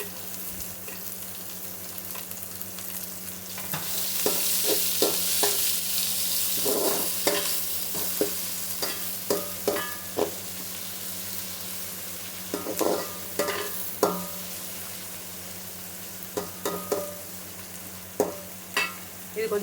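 Capsicum sautés in a pan for vegetable fried rice, a steady sizzle with a steady low hum beneath it, broken by frequent sharp clicks of the spatula stirring and scraping against the pan, with no talk.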